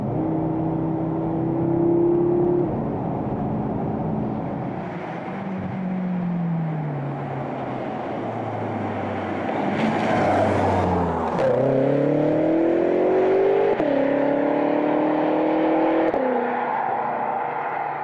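A BMW M6 Gran Coupé engine revs up through the gears, its tone rising and falling with several shifts, then surging hard in a strong climbing howl, loud and clear with no talking.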